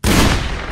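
A burst of gunfire in the Garry's Mod video game, loud and close, a dense crackling volley lasting under a second.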